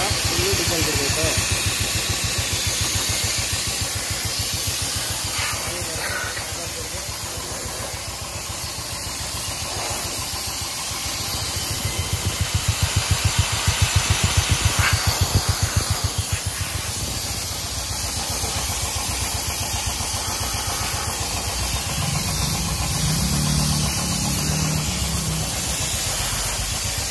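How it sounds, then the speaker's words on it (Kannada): Vehicle engine running steadily during a diesel wash at a service station, a continuous low rumble under loud hissing spray, with a louder surge midway and a brief swell of low tone near the end; a voice is faintly present. "ಇವಾಗ ಡೀಸೆಲ್ ವಾಶ್ ಮಾಡ್ತಾ ಇದೆ"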